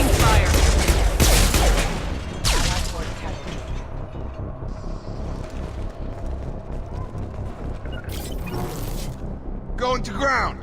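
Rapid gunfire in the Mass Effect 2 video game, a dense, loud barrage of shots and mechanical clatter that fills the opening seconds and keeps bursting through a busy battle soundscape, with occasional voices.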